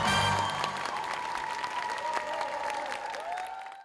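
An audience in Yokohama applauds after a pops-and-enka collaboration song: a dense, sustained wash of clapping that starts strong over the fading music and slowly tapers off.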